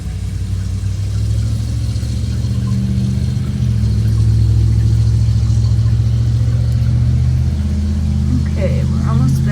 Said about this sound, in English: Since I'm outside, there's cars and people walking by.